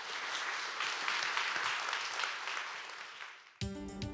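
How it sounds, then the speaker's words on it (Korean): Audience applause welcomes a seismologist professor onto the stage at a science lecture, a broad steady wash of clapping that swells and holds for several seconds before stopping abruptly, followed by a brief musical sting. "큰 박수로 맞이해 주시기 바랍니다."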